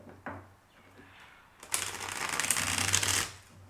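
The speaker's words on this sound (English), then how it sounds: "I will shuffle first" Tarot cards are shuffled in a quick riffling burst lasting over a second, crisp and close, following softer handling and a few light taps.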